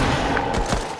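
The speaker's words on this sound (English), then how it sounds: "I hear a lot of guns" Gunfire in a prison-themed video game, a brief burst of several rapid shots with thuds blending into a dense, noisy background, no talking.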